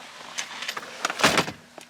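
A bed frame in a minivan camper built into a Dodge Grand Caravan, an aluminum tube and 2x4 frame mounted on drawer slides, glides down with a short mechanical whir and a couple of rattling clunks, close and without talk.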